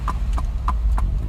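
A loose horse's hooves clip-clopping along a highway in a steady, even rhythm of sharp knocks over constant road rumble, close and clear.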